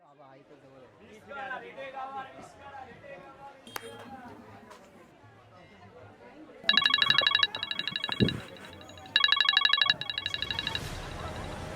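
A phone ring in repeated electronic bursts follows quieter murmured voices and a clink, the ringing loud and close.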